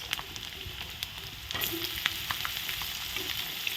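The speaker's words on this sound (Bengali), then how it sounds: "পেঁয়াজটা দিয়ে একটু নেড়ে নেব" Onion stirred into garlic frying in oil in a pan, a steady close sizzle broken by scattered clicks of the spatula, livening as the onion goes in, without any speech.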